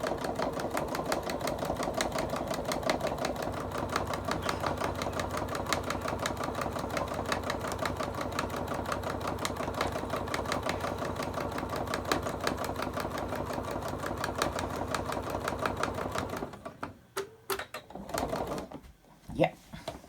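A sewing machine stitches a laptop bag in a fast, steady mechanical clatter that runs loud and continuous, then stops and gives way to a few scattered knocks and handling sounds near the end.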